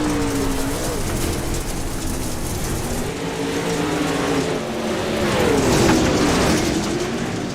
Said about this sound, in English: Riding on board Dylan Wilson as we work lap number 6 here.